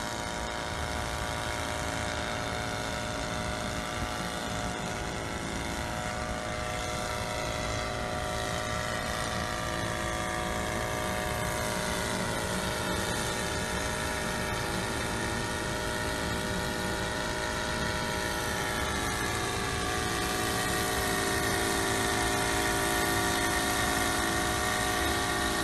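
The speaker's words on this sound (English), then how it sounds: "So right now helicopter is at 20 meters." An SK1000 UAV helicopter hovering at about 20 meters under autopilot position hold, its engine and rotor droning in a steady, loud, unbroken whine with layered tonal hum throughout.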